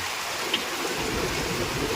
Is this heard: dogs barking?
no